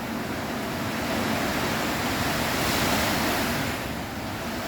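Steady, dense hiss of rain falling continuously, even and unbroken from start to finish, with no voices.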